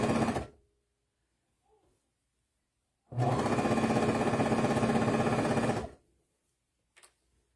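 A sewing machine stitches a seam through four layers of a breastfeeding bra, with one short burst followed by a steady, close, loud run of about three seconds and then a small click.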